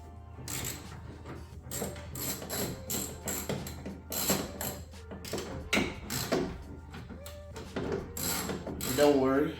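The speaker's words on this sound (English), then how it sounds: "So use a 10mm socket." A 10mm socket wrench ratchets against the door mirror nuts of a 2022 Honda Civic hatchback Sport, giving rapid clicking pawl bursts with short pauses between them, close up, with faint handling noises.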